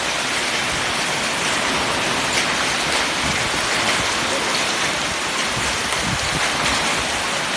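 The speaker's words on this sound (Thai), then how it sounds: "พายุลูกเห็บ" Hail and heavy rain fall steadily in a thunderstorm, making a dense, loud, continuous hiss and patter close by that holds at the same level throughout, with no voices heard.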